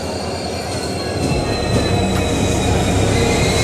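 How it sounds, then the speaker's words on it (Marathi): Tutari Express train rolling into Kankavli station, a steady loud rumble of wheels and cars with faint squeals, continuous and close throughout. "मित्रांनो ट्रेन आली"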